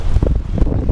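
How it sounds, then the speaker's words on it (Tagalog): Strong wind blows outdoors in Baguio City, a loud, continuous low roar and buffeting against the microphone with gusty rumbling throughout. "Malakas yung hangin, malakas yung hangin."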